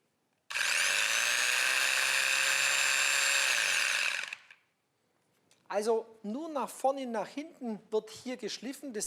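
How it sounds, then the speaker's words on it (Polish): Festool sander with a linear back-and-forth sanding motion whirs loudly and steadily for about four seconds, then winds down and stops, after which someone talks. "podłączę maszynę i teraz mogą Państwo zobaczyć ruch szlifujący"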